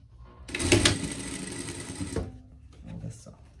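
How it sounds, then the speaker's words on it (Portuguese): A sewing machine topstitches a seam along a skirt in one short, close burst of rapid whirring that stops abruptly, followed by quiet handling sounds. "e vai passar a costura aqui, rente a sainha, prespontando"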